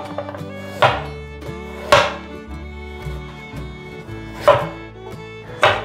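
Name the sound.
knife slicing carrot on cutting board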